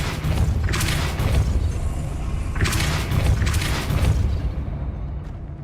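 In the Hogwarts Legacy video game, the Depulso spell fires in repeated bursts: booming, whooshing blasts with mechanical thuds and creaks, loud and close over a low rumbling backdrop, with no speech.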